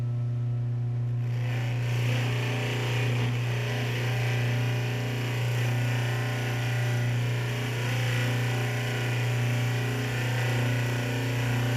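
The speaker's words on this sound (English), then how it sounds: "this is how I'm going to buff the screws for the crankcase too" Crankcase screws from a 1976 Honda XL175 are buffed on a buffing wheel, a steady close motor hum running unbroken throughout with light rubbing texture over it.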